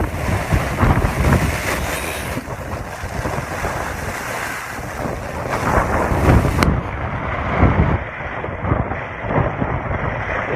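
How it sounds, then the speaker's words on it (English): Strong wind and rain storm in Florida, heavy gusts roaring and buffeting the microphone with constant rushing rain noise, loud and unbroken throughout, with no talking. "the wind and rain is not playing."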